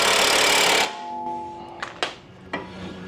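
Axle nut on a Porsche 996 911 Turbo being tightened: a loud, close, continuous rattling burst of under a second, then quieter metallic clicks and knocks.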